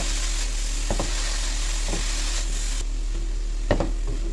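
Chopped cabbage stir-fries in a hot pan for a Chinese-style paratha filling, a steady sizzle broken by a few soft scraping stirs of a spatula, near and continuous with no voices.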